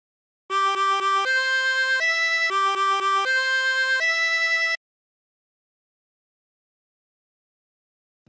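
A 24-hole tremolo harmonica plays a short phrase of La Cucaracha in blown chords, with several quick repeated notes followed by held ones and a warbling tremolo. It is loud and close for about four seconds, then silence follows.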